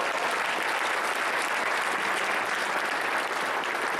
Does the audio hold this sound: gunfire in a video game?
no